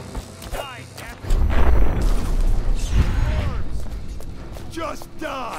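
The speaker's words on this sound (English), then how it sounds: "Explosion!" An explosion in the video game Dishonored, a heavy booming rumble that swells suddenly and rolls on for several seconds, followed by whooshing and sharp clashing effects, with a voice talking over it.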